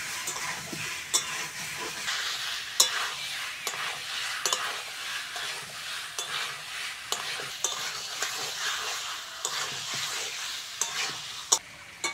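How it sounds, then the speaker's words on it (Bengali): Potatoes and spices being sautéed for aloo dum, stirred steadily in a pan with continuous sizzle and frequent close scraping and clinking strokes of the spatula throughout. "আলু দিয়ে মশলার সঙ্গে বেশ খানিকক্ষণ কষে নেব"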